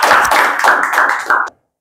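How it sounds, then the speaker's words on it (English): Students in a spoken English class clap for classmates, a close, loud burst of rhythmic group clapping in a few quick waves that stops abruptly. "Clap for them, guys."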